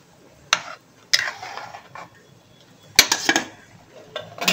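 Paneer pulao being gently folded in a pot with a spoon, a handful of light metallic clinks and scrapes against the vessel, close and sparse over a quiet background.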